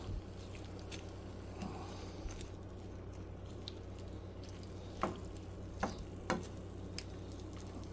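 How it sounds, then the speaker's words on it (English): A wooden spoon stirs bistek ranchero, beef with vegetables, in a pan. The food sizzles steadily, with a few soft clicks and scrapes of the spoon near the end. "So, just going to stir this around a little bit."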